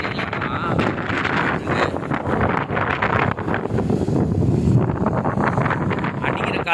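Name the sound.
wind blowing at Pondicherry beach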